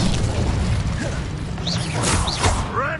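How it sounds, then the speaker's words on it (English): Fire spell cast in Hogwarts Legacy: continuous rumbling game combat with whooshing bursts and bright crackling flares, dense and loud throughout. "Incendio."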